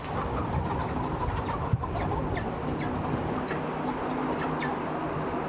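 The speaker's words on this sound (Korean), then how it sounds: "온통 털이 벗겨진 채 살갗이 벗겨진 닭들이 한 공간에서 한 모이를 먹고 살아간다" Crowded hens in a dense poultry farm, many featherless and sharing one space, cluck and chatter in a constant overlapping murmur, with occasional sharper calls rising above the steady flock noise.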